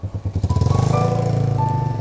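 A motorcycle engine revving up close while the bike is ridden on a test run, a steady pulsing throb that rises in pitch and holds loud and near for a couple of seconds.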